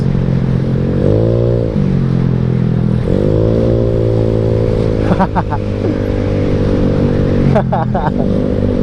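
A tuned Yamaha Mio scooter with RCB parts drones loudly while being ridden, its engine note dipping and rising twice with throttle changes, plus a couple of brief rattling clatters; a person talks over the engine.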